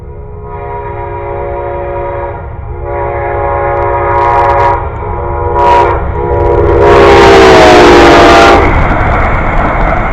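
A train approaches loudly and passes close by, its horn sounding in several long blasts of stacked tones, the last longest and loudest, over a heavy rolling rumble.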